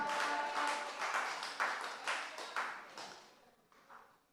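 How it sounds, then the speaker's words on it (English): An audience at a school hall gathering applauds for a man in the crowd, a fairly faint, dense patter of clapping that tapers off. "give the man a round of applause now"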